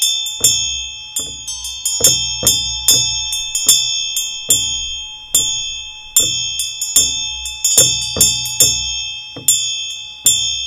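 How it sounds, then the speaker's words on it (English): Tibetan ritual bell and damaru hand drum played together during Chod practice, repeated bright ringing strikes with long sustained tones over rhythmic low drum rattles, close and fairly loud with no talk. "So they go together, the bell and the drum."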